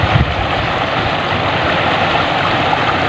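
A swollen river in Infanta, Quezon rushes strongly after rain, a loud, steady broadband roar of flowing water close by with no break.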